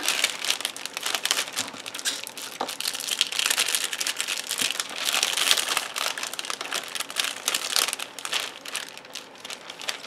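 Paper crinkles and crumples steadily and close as it is folded over while a teacher's Valentine's Day gift is wrapped, with no talking.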